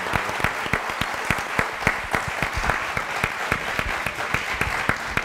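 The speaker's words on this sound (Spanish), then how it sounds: "les pido un aplauso para nuestros invitados" Audience at a public talk applauding the guests, a sustained, even wash of many hands with crisp individual claps standing out nearby.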